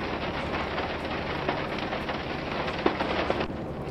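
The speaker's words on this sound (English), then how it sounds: "there is rain coming into the cab at times." Rain in the Train Mechanic Simulator 2017 game, a steady dense hiss of falling rain with a few faint taps, continuous and moderately quiet throughout.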